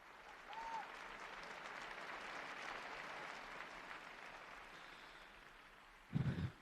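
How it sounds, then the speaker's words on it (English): A large outdoor crowd in St. Peter's Square at the Sunday noon Angelus applauds grandparents, a broad, steady roar of distant clapping that ends with a brief louder burst. "now he's asking everyone to applaud grandparents"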